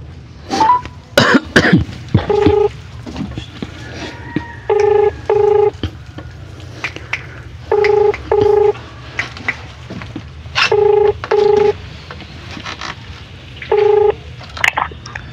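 Phone keypad tones sound as a relative's number is dialed, paired two-tone beeps in short clusters spread across the span, with coughing and throat clearing nearby early on and a low background hum.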